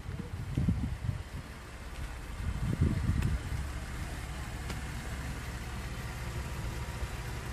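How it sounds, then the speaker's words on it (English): A used Ford vehicle's engine idles quietly and steadily, a low continuous hum behind a few brief knocks and handling noises near the start, with no talking. "I don't know if you can hear the motor running, but nice and quiet."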